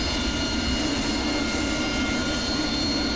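A simulated AV-8B Harrier jet engine in the DCS flight game runs steadily with water injection switched to takeoff, giving a continuous, even broadband roar and whine that holds at constant loudness throughout, with no voices.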